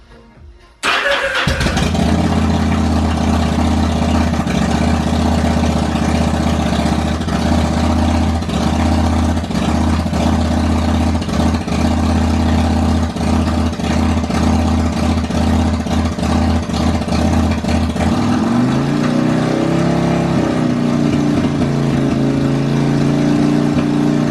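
A Yamaha Drag Star 1100 motorcycle engine cranks and fires on a first run after assembly, then settles into a loud, steady running note with revs rising and falling near the end, close by with no talk.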